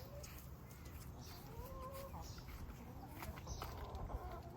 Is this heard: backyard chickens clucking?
yes